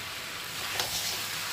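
Chickpeas and green chillies frying in spiced masala, a close, dense continuous sizzle with a brief swell of hissing partway through.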